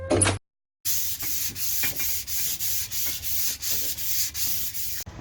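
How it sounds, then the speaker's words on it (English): Sandpaper strokes on a gas pipe handrail, about ten steady back-and-forth passes rasping close and loud after a brief moment of silence. "For the best possible finish, you're going to want to sand the entire piece down"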